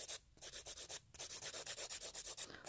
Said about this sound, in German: Und ohne Druck feilen.